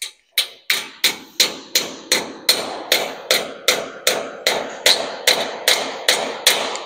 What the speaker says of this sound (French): Tu prends le marteau et tu viens lui taper dessus.